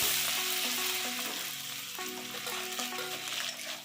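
Chopped onions and a few whole black peppercorns hit hot oil in a wok, raising a dense, continuous hiss close by, with a steady musical tone running underneath.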